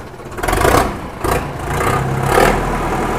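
A Sonalika tractor engine with about 2021 hours of running, parked with the hand brake on, revs hard in repeated rising surges over a steady rumbling idle. It is loud and close, with no voices.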